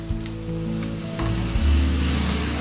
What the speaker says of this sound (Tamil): எண்ணெய் விட்டு தாளிச்சிக்கலாம். கொஞ்சமாக கடுகு போட்டிருக்கேன்